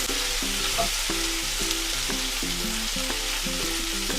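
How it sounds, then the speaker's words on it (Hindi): Onion fries with mixed vegetables in a pan for restaurant-style veg jalfrezi, giving a dense, even sizzling hiss that runs the whole time, with a melodic music bed playing over it. "अब हम इसमें ये प्याज ऐड करेंगे। इसको भी आधा मिनट पकाएंगे, भून लेंगे सब्जियों के साथ।"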